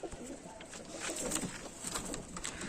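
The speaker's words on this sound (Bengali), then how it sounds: "শুধু পায়রাগুলো দাঁড়াচ্ছে দেখুন" Pigeons at a Bengali pigeon sale, including Pakistani and golden teddy breeds, cooing in soft repeated throaty calls that overlap continuously at close range, with no talk.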